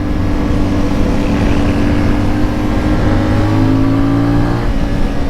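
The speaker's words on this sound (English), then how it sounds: "it sounds really good, and the engine is smooth." A CF Moto 450 Ibex motorcycle engine runs close and loud with a smooth, steady drone, its pitch shifting slightly as the revs rise and ease.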